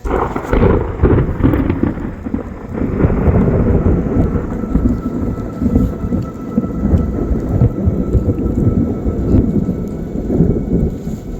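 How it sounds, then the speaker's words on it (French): Thunder rumbles loudly and continuously through a thunderstorm after a huge lightning strike to the ground several kilometres away, a deep sustained roll with rain hissing underneath and no voices. "un énorme éclair apparaît de nulle part et frappe le sol à plusieurs kilomètres"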